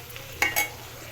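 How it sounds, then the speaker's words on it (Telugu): A piece of jaggery frying in hot oil, heard as a low steady sizzle broken by two quick, close stirring scrapes of a spoon in the pan. "ఆయిల్లో వేసి కొంచెం బెల్లం ముక్క వేసి ఫ్రై చేసుకోవాలి"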